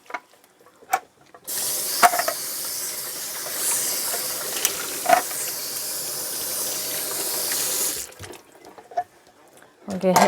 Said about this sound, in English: Go ahead and get this big pot washed up and out of the way.